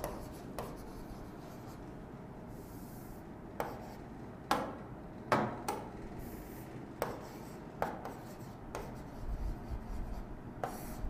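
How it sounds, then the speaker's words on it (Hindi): Marker or chalk strokes on a board during an online IBPS SO English class, faint steady scratching broken by several sharp taps as letters are written, no voices. "जैसे हमने लिख लिया"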